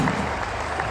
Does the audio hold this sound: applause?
yes